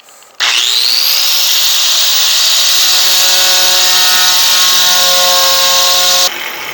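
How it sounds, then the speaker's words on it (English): A power grinder whines up to speed and grinds metal steadily at high pitch for several seconds, loud and close, then spins down near the end. "I'm just going to grind them right now"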